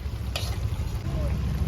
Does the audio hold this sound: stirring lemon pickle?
yes